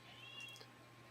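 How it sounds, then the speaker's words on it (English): A pet cat gives one short, clear meow, fairly close and alone against a faint steady hum. "That's my cat."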